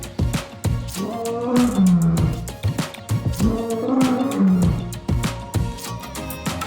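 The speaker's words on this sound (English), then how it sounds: "This is lion." A lion roars twice in long, deep, loud groaning bursts, each swelling and fading, with percussive clicks from a children's animal-sound lesson in the background.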